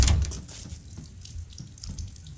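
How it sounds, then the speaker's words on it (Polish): Running water from a tap in Resident Evil Village, a soft, steady splashing flow heard faintly and alone. "Zastanawia mnie tam ta woda, która leciała."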